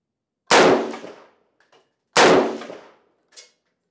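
Two loud, sharp gunshots from a tripod-mounted FN SCAR Heavy rifle ring out about a second and a half apart, each with a ringing decay and a faint metallic tick after it.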